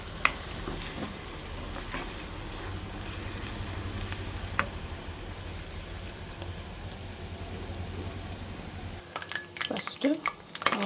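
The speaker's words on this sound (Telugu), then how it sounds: "ఫస్ట్ ఆయిల్ కాగుతున్నప్పుడు కొంచెం పల్లీలు ఫ్రై చేసుకోవాలి" Peanuts frying in hot oil for pulihora, a soft continuous sizzle with occasional sharp pops, then a few louder scrapes and clatters near the end, fairly faint and close.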